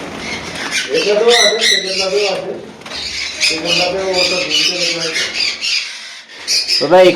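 Pet birds squawk loudly at a home-bred bird sale with conures, Java sparrows and lovebirds, harsh repeated calls in bursts close by, mixed with people talking.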